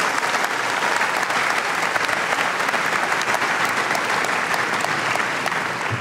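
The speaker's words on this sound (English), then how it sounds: "Can we please have a round of applause for all the Hermiston School District employees?" A graduation crowd at Hermiston High School applauds the school district employees, with steady, full clapping that fills the whole stretch without pause.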